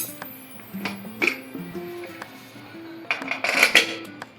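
Metal pressure cooker opened and handled after cooking khapli wheat kheer, with sharp metallic clinks and clatter of lid and pot heard close in a few quick bursts, no talk.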